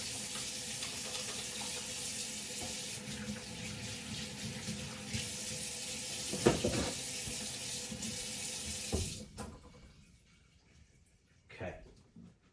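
Water runs steadily from a faucet into a sink as hands are washed, a broad close splashing hiss that cuts off abruptly, leaving brief faint handling sounds afterward.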